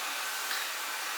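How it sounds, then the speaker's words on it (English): A vacuum cleaner runs steadily nearby indoors, a constant high whooshing motor whine with no pauses or speech over it. "I hope you can hear me over the vacuum."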